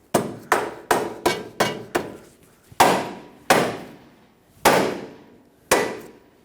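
A hammer taps a front lower control arm into place on a 2012-2019 Fiat 500, giving sharp metallic knocks, first five in a fast run, then five slower, spaced blows that ring briefly after each hit.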